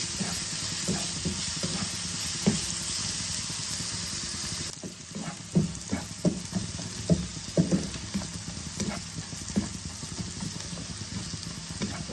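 Vegetables frying in hot oil: a steady hiss for the first few seconds, then a lower sizzle broken by irregular spatula knocks and scrapes as stirring begins, close and fairly quiet, no talk.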